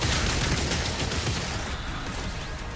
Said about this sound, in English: I don't know what I'm shooting, but I'm shooting!